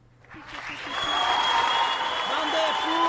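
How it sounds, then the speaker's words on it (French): A crowd breaks into applause that swells within the first second into loud, dense clapping and holds steady. A voice is faintly heard near the start. "Moi, je contrôle le son de ces applaudissements."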